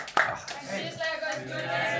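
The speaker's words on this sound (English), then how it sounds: "Let's have a round of applause for them." Crowd applause at the Emirates Stadium for the Arsenal women players, a sharp clap up front, then a broad steady wash of clapping and crowd noise with voices mixed in.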